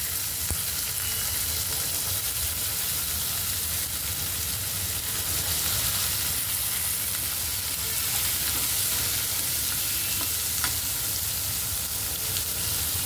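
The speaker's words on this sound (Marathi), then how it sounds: "आपल्याला कांदा टमाटर आपलं खूप छान भाजून द्यायचं" Onion and tomato fry with a little turmeric in a pan, giving a steady, even hiss of sizzling oil that runs throughout with only faint stirring sounds.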